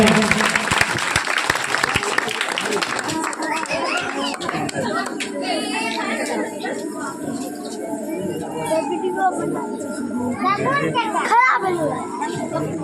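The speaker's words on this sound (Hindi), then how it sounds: "जोरदार तालियों के साथ स्वागत करें।" Clapping greets a prize winner at a village dance competition, a burst of hands at the start that gives way to children chattering and playing nearby.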